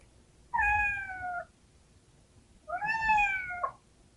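Two drawn-out cat meows from an animal sound effect in the VLLO phone video editing app, each about a second long and separated by a short pause, clear and close with no talking.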